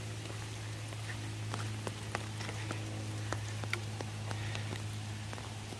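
Rain patters steadily on an Appalachian Trail path among mountain laurels, scattered drops ticking close by over a low, constant hum.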